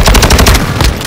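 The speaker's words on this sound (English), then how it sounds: "I think I just got shot at" Rapid automatic gunfire in Call of Duty, a loud close burst of evenly spaced shots filling the short moment, with no talking over it.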